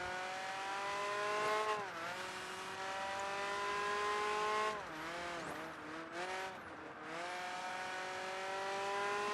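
A race car in Project Gotham Racing 3 holds a loud, high engine whine throughout, with the pitch dipping and climbing through gear changes and several short tire squeals near the middle.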